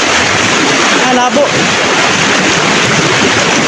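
A strong, swollen river rushes in a dense, loud wash of flowing water close to the microphone, with wind buffeting and a brief spoken phrase partway through.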